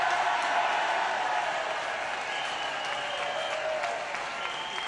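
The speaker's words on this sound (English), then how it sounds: "Give it up for Hilary Benn and Dominic Grieve" A crowd at a People's Vote political rally in London applauds, steady and sustained clapping from many hands filling the whole stretch, loud and unbroken.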